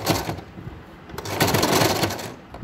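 A sewing machine runs a double stitch along the edge of a bed spread being made into a fitted one. The needle clatters in steady, fast bursts with a short pause partway through, close and fairly loud.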